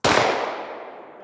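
A single sharp handgun shot fired at a target on a close-distance self-defense range, loud and close with a long decaying tail, no talk.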